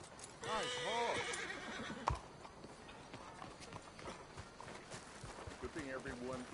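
Horse in the video game Red Dead Redemption 2 giving a loud wavering whinny near the start and another later on, with hoofbeats and a sharp thud between them and a voice briefly heard.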